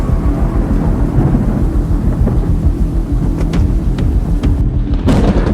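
Deep, sustained thunder rolls from a lightning storm, loud and continuous low rumbling throughout with brief crackling bursts near the end, no voices.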